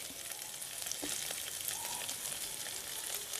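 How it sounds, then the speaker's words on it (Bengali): Sliced capsicum, chopped carrot, tomato cubes and slit green chillies frying in a pan over high heat, a steady soft sizzle with faint stirring, no voices. "এখন সব কিছু মিশিয়ে 3-4 মিনিট হাই হিটে ভেজে নেব।"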